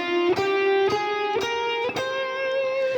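A distorted electric guitar plays the Phrygian mode, sustained notes each struck separately at an even pace, climbing through the dark-sounding scale.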